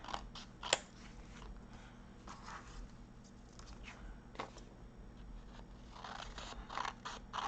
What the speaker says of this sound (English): I picked up the tiny scissors to cut this long piece